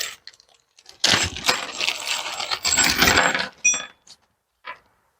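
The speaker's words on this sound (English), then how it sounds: "Let's see what other hardware we've got in the bag here." Loose metal bolts and hardware from a Jeep Wrangler TJ rear side window MOLLE panel kit rattle and clink inside a bag, a dense jingling burst of about two and a half seconds with a few small clicks after.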